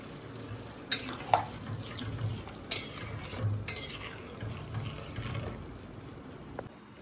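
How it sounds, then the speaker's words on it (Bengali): Water is poured into mutton keema in a pot before pressure cooking, a faint, low splashing and stirring with a few soft clinks of utensil against metal; no voices. "এবারে তো এটাকে সিটিতে বসাবো, তাই জন্য জলটা দিয়ে দিচ্ছি আগে।"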